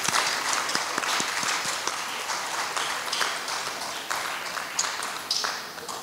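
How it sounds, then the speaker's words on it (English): Audience applause fills a high school auditorium at an inter-high school debate day, a dense and steady wash of clapping that holds at an even level for the full six seconds with no voices over it. "Please give them a round of applause."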